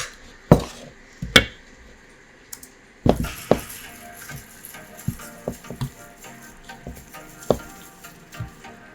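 Scattered clinks and scrapes of a spatula stirring a Korean side dish in a bowl, with sharp utensil knocks early on and lighter tapping and scraping afterwards, close by with no talk.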